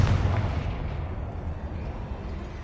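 A booming blast from the Confringo spell in Hogwarts Legacy opens loud and close, then a rumbling roar of debris decays over a couple of seconds.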